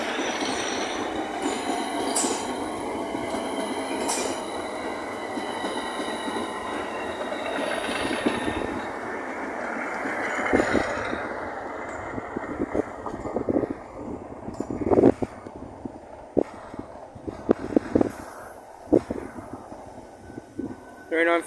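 Class 395 high-speed electric train passing through Gravesend station, a loud sustained rolling roar with high-pitched wheel squeal, then fading into sharp intermittent clatters as it moves on.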